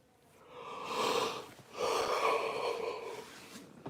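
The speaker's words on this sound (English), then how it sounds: "I keep yawning" A yawn with two long, breathy, voiced swells, the second fuller and longer, close and fairly quiet.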